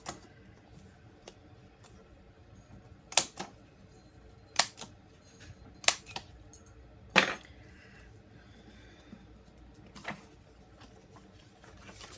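Several sharp, isolated mechanical clunks of a paper hole punch punch through a quiet room, spaced a second or so apart, with softer clicks in between.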